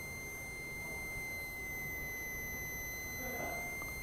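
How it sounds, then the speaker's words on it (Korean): Steady high-pitched piezo buzzer tones from a homemade metal detector ring continuously, with a brief shift in tone near the end as it nears metal, over faint background hiss. "이렇게 피에조에서 반응이 와서 이렇게 다른 음색으로 이렇게 울리게 되는 걸 알 수 있습니다"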